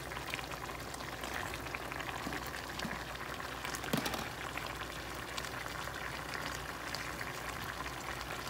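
Onions go into a pot of fish sauce, which bubbles and simmers steadily and closely throughout, with one brief louder splash near the middle and no voices.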